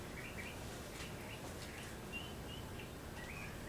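Wild birds call and chirp in mountain and foothill country of northern Arizona and southern Colorado, scattered faint tweets over a steady hiss of outdoor ambience, with no voices.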